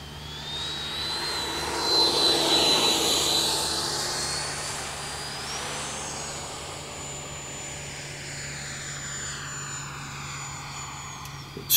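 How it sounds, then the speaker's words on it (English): An FMS 80mm EDF AV8R model jet flies past with a loud rising and falling ducted-fan whine, a clear Doppler sweep as it passes overhead, then a steady high whine as it recedes; no talking. "The airplane is really grooving with this setup."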